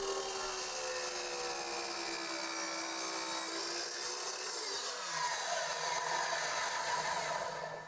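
A saw makes an inside cut through crown molding, a steady close-up cutting whine with a harsh buzzing edge that shifts pitch partway through as the blade works deeper into the wood, with no talking.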